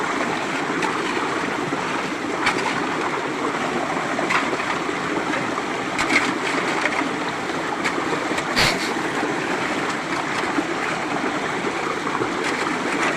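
Strong water rushing steadily through a gold-panning sluice box, a constant dense wash and splash that continues unbroken throughout, close and fairly loud with faint occasional knocks.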